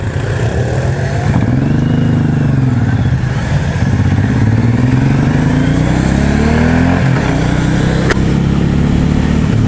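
A 2015 Suzuki M109R Boulevard cruiser motorcycle accelerating, its engine loud and close, rising through the revs with a dip at a gear change before climbing again, under steady wind rush.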